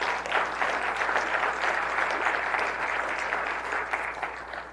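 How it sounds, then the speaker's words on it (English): A city council meeting audience applauds a group of police officers, steady dense clapping sustained throughout, fairly loud and continuous with no talk over it. "So if we could have a round of applause for all of them"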